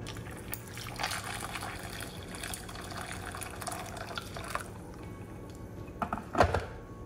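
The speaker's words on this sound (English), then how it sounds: "I'm going to pour hot water into the cup right now" Hot boiling water is poured into a cup holding a little ice, a steady liquid trickle over a low background, ending in a brief louder splash and gurgle near the end.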